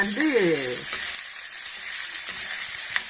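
Onions sautéing in a pan: a steady sizzling hiss, close by, with a short vocal sound at the start.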